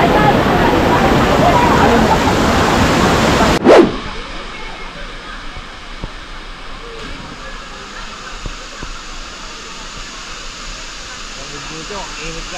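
Waterfall at Dingalan, Aurora: a loud, steady broadband roar of falling water for the first few seconds, then a sudden drop to a much quieter, distant wash of water, with crowd noise from a holiday crowd in the background.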